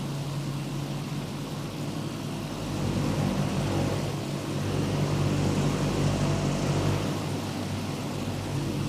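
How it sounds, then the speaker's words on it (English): A loud propeller airplane drones steadily overhead, a constant engine hum that swells slightly partway through and keeps going without pause. "this plane's also a bit loud"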